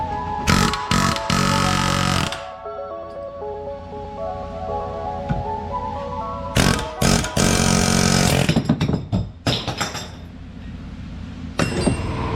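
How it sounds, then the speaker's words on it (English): Loud bursts of a pneumatic air hammer rattling against metal on a Subaru STI, in short hard blasts separated by pauses, with metallic ringing between them. "Easiest way to do it is with an air hammer."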